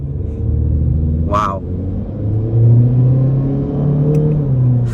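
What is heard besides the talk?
2023 Honda Civic Sport Hatchback accelerating off the line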